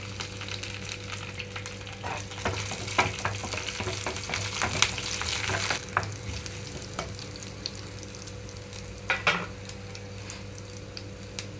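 Mustard seeds, cumin, crushed garlic and curry leaves fry in hot oil for a Telugu tindora curry, a loud steady sizzle with crackling pops and occasional spoon scrapes against the pan, no voices.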